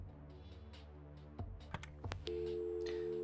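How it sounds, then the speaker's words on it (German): A phone call is dialed in the point-and-click adventure game Kathy Rain: a few quick electronic beeps, then a steady sustained telephone tone over a low background hum. "Dann telefonieren wir jetzt mal."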